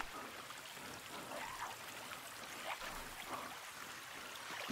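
Continuous watery splashing and sloshing with faint rushing texture, steady and fairly quiet, as a character moves through water in The Forest.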